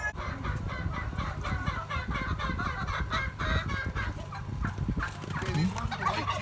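Backyard chickens, including roosters, cluck and squawk close by outdoors in a busy, overlapping chatter. Gobbling-like calls sound alongside them and a person speaks briefly in the background.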